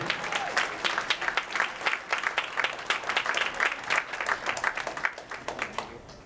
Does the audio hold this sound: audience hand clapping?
yes